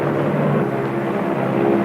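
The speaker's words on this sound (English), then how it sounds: "The bomb-carrying plane makes its initial run." A bomb-carrying military airplane drones steadily overhead, a continuous low engine roar with a constant hum and no speech.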